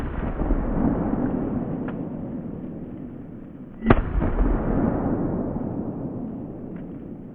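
A Fostech Origin 12 shotgun fires a high-powered Remington Slugger 1-ounce lead slug outdoors: one sharp, loud report midway, standing out from a steady rumble of wind or ambient noise.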